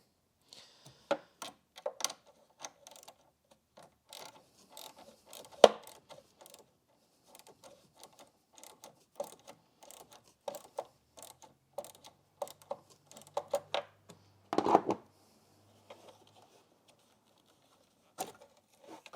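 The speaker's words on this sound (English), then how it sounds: "The best combination I've found is a 1/4 inch ratchet with a 10mm deep socket on it." A 1/4 inch ratchet with a 10mm deep socket loosens a battery terminal nut on a Renault Scenic 3, giving bursts of quiet ratcheting clicks in short irregular runs with pauses between.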